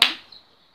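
One sharp hand clap, close and loud, struck once to sync audio before recording, snapping out with a quick decay and a brief faint echo in a small room.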